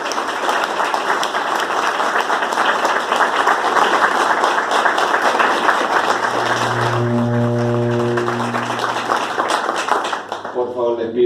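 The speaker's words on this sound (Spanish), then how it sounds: "Le pido un fuerte aplauso." An audience at an evening lecture on Dante's esotericism breaks into loud, sustained applause that lasts about ten seconds and fades out. A steady sung or hummed tone rises over the clapping near the end.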